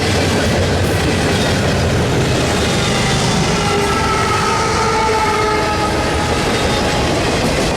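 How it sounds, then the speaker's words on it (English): A freight train well over a mile long rumbles past on the rails, a steady loud roar of wheels with metallic squeals and clanking, continuous throughout. "this train is a monster, well over a mile and likely closer to 2"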